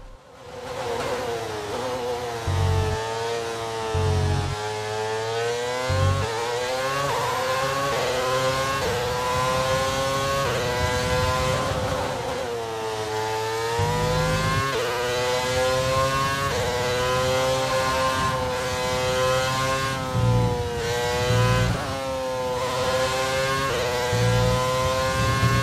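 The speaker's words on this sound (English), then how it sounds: "first off, the Mercedes engine" A high-pitched Mercedes Formula 1 car engine in a modded F1 22 video game revs up and down repeatedly, loud and close, with sweeping pitch climbs and brief drops between bursts.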